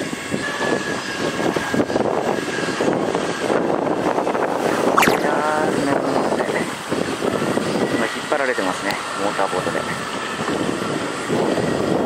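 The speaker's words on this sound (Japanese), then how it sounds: "ではこの船に乗って、仁右衛門島に行きます。" Boat ride out to Niemon Island in Chiba, with a steady engine drone and wind rushing across the microphone the whole way, while voices talk now and then over the noise.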